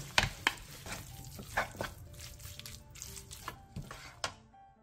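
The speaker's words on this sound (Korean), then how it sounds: "들기름 1스푼, 대파 조금, 통깨를 넣고 가볍게 더 볶아 마무리해주세요." Dried zucchini namul being stir-fried with perilla oil, green onion and sesame seeds in a pan: faint sizzling under repeated scraping and tapping stirs, quiet and close, with no talk.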